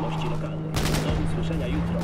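Gunfire during a car chase in the video game Cyberpunk 2077: a burst of rapid shots begins partway through and continues as dense crackling under a steady engine hum, with game background noise throughout.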